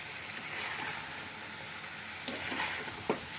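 Fish and sautéed vegetables being stirred in a frying pan, a quiet, steady sizzle with a few soft scraping knocks near the end.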